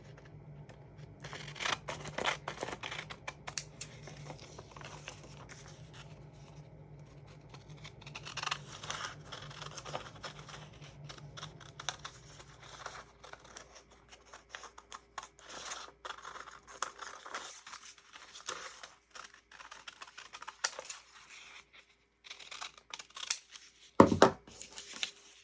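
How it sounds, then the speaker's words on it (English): Scissors cut out a folded fabric diaper pattern in a long run of crisp snipping and slicing strokes, close and fairly quiet, with brief rustles of cloth between cuts and a louder clack near the end. "we're going to cut this out."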